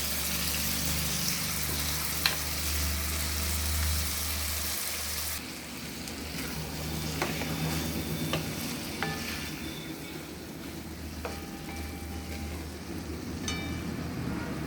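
Small pieces of fried fish simmer and sizzle in a pan of spice paste with a little hot water, a steady soft frying hiss with occasional clinks and stirring, the sizzle easing partway through; no talking.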